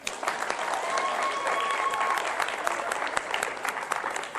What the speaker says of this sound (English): Let's give him another hand.